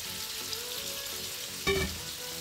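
Jalapeño chiles and carrots hit a hot pan and sizzle, a steady frying hiss with a short louder burst of crackle and stirring partway through.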